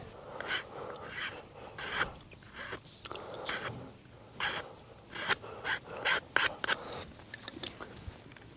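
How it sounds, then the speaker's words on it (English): A hand file rasps against the corner of a 3D-printed plastic brake reservoir mount for a Kazuma Falcon, in close, uneven back-and-forth strokes that come in quick bursts of scraping with short pauses between them. "I'll have to just file off this top corner right here"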